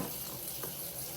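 Hot tap water running from a kitchen faucet into a cup while preparing sourdough starter, a brief steady rushing stream, soft and continuous, without talk.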